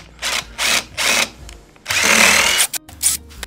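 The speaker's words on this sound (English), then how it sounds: "I'm going to go ahead and drill out and pilot this for my screws" A power drill bores pilot holes for screws into hard mahogany pallet wood, heard as three short close whirring bursts followed by a longer, louder drilling run and a couple of quick final blips.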